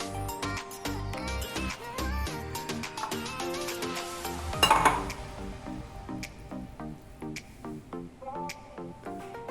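Fish pieces are mixed by hand with a lemon marinade in a bowl, making close wet squelches and squishes with occasional light clinks of the bowl. No one speaks.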